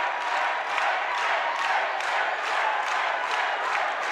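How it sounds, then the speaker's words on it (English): Cage-fight crowd at a kickboxing event roaring steadily behind their fighter to urge him on, a dense, loud wall of cheering and shouting with slight swells and no clear pauses. "Crowd are really trying to get behind their fighter. Trying to urge him on."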